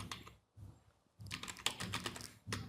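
Someone types a short command on a computer keyboard at a command prompt. Close, crisp key clicks come in quick bursts separated by brief pauses.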